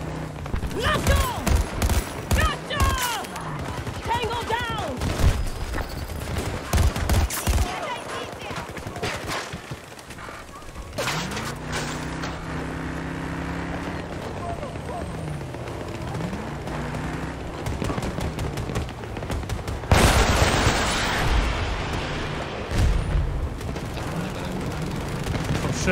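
Gunfire and grenade blasts in the shooter Battlefield 2042, with rapid bursts early, then a lull under engine rumble and a loud burst of explosive noise near the end, with voices talking over it.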